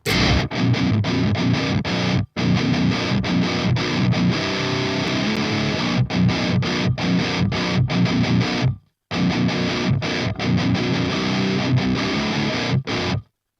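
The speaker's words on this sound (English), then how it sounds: "This is just straight tones from the amp. Guitar straight in." Distorted electric guitar played straight into a Revv Generator 120 Mk3 amplifier with no pedals, loud and dense, with tight riffs broken by a few brief stops and a short silence near the middle.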